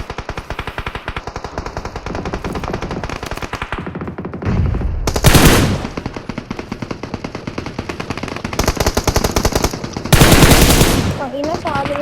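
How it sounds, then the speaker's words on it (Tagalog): Rapid bursts of loud machine-gun fire crackle in tight rhythmic volleys, punctuated by a few heavier blasts, close and continuous across the stretch. "Baril."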